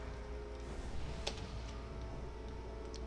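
Keys clatter on a computer keyboard in quiet, irregular bursts of soft clicks against a low background hum, one sharper tap standing out near the middle.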